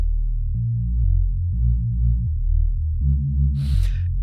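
Two detuned Reese-style synth waveforms built with Casio CZ-style distortion synthesis drone as a loud, steady low bass tone, stepping through a few pitches with a rhythmic beating pulse, ending in a short noisy burst.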